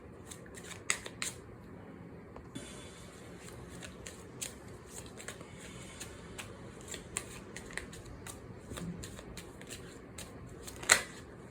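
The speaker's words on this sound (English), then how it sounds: "So let me just pull out a few cards." Tarot cards riffled and shuffled by hand, a soft papery rustle with scattered crisp flicks and a sharper snap near the end, quiet and close with no speech.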